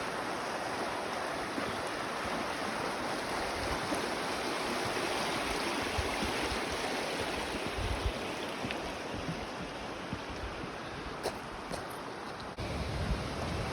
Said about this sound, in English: this is that falls that comes down from Red Mountain.